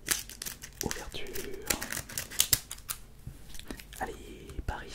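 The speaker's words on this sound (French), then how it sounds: "Paire de ciseaux." Scissors snip and slice open a Pokémon Reign of Ice booster pack close to the microphone, crisp repeated cuts and crinkling foil with soft whispered speech between them.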